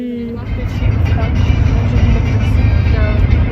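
A taxi pulls up to collect people outside, its engine a steady close rumble of road traffic across the whole clip.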